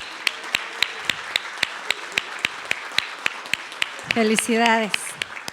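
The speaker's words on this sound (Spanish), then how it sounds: "Les pediría un aplauso para todos y todas ellas, por favor." Scattered hand claps from a ceremony audience at an agroecology awards event, sparse and fairly regular rather than a full ovation, while a voice speaks briefly near the end.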